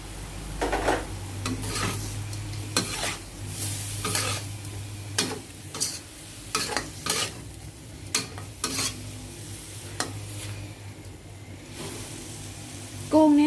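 Whole unpeeled shrimp stir-fry with curry powder in a pan, a steady sizzle broken by repeated sharp scrapes and clinks of a spatula against the pan, with a brief voice near the end.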